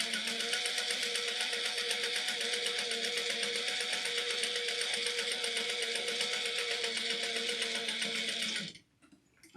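A sewing machine runs in a steady, continuous buzz of rapid stitching through fabric for a Sage Satchel bag, including a few back stitches, close and loud, then stops abruptly near the end.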